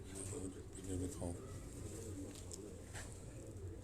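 Sialkoti breed pigeons, a modified line, cooing softly on a rooftop loft, with low repeated coos under steady background noise and some nearby talk.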